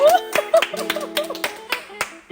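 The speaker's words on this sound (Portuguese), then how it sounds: "Palmas pra Jesus, gente!" Small group clapping for Jesus, a short run of sharp, uneven hand claps close by, mixed with bright voices and laughter.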